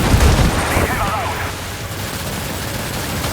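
Gunfire in the Death Stranding 2 video game, a burst of shots at the start that settles into a steady game rumble, with someone talking over it.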